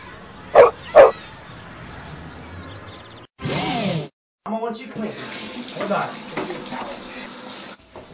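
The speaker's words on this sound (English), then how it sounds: "Look at the cute dog." A small dog in an Ameriquest Mortgage commercial gives two sharp, close barks, followed by running water from a tap and a sink, with voices and some clatter afterwards.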